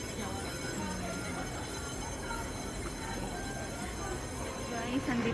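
Interior rumble of a moving train, a steady low roar with faint wheel squeals throughout, while a person talks quietly over it.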